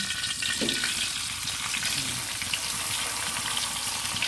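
Fish fries in a hot pan, a dense, continuous close sizzle with crackling spatter throughout and no one speaking.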